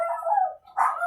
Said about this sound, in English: we're going to wait till the dog stops barking